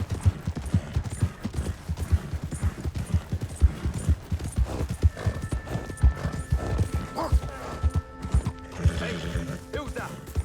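Horse hooves gallop in Red Dead Redemption 2, a fast, continuous clip-clop rhythm close by, with occasional whinnies, mechanical rattles and voices talking over the hoofbeats.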